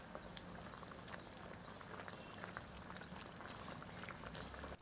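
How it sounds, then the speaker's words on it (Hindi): Chicken kali mirch curry gravy boiling hard over high heat, a steady bubbling simmer with soft pops and gurgles that carries on without pause. "आंच तेज कर देते हैं ताकि तरी में उबाल आ जाए।"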